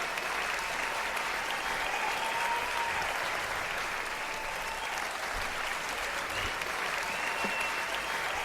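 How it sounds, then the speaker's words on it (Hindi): Sustained applause from a large audience at a kavi sammelan poetry gathering in Rajasthan during Sawan, welcoming poet Dr Kumar Vishwas to the stage; dense, steady clapping throughout. "आप आमंत्रित करने के लिए इतना तालियां बजाइएगा कि उनको लगे कि इतिहास रचा जा रहा है"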